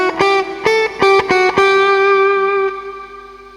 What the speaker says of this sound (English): the next one is reverb only